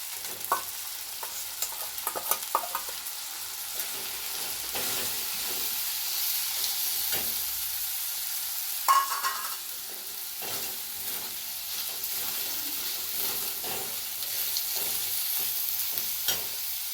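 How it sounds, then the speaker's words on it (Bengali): Spice paste, fried potato and onion stirred together in a pan while cooking a village-style mussel curry, giving steady sizzling hiss with repeated scraping stir strokes throughout. "আলু পেঁয়াজ ভাজা ছিল সেটাও দিয়ে দিল, দিয়ে এবারে নেড়ে চেড়ে জল দিয়ে দেব"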